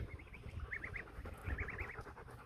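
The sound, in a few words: geese honking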